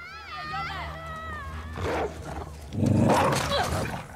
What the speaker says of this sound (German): Jetzt kommt dann noch der Hund.